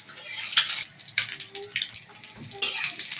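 Quail eggs fry in a pan as they are stirred. A close, steady hiss is broken by several sharp clinks of a utensil against the pan.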